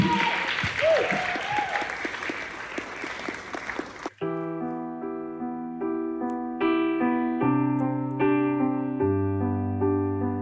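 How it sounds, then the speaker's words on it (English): Audience applause at a live talent show semi-final, a loud broadband burst of clapping lasting about four seconds before it cuts off and sustained piano-like music takes over. "Best of all, please, and a massive round of applause, Caitlyn!"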